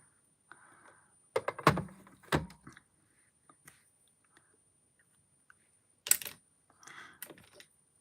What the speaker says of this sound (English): That's in wrong drawer.